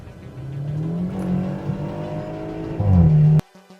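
BMW 430i with a 2.0-litre turbo engine revving: a steady mid-pitched engine note rises and falls, then surges louder near the end before cutting off abruptly, with no talking.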